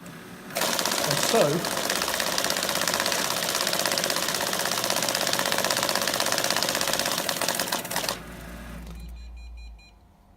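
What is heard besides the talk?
banknote counting machine counting notes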